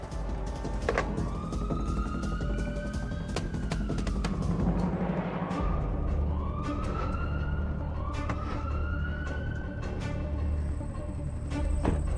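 Ambulance siren dispatched to a residential housing complex, its rising wail sweeping repeatedly over steady traffic and engine noise, loud and continuous throughout.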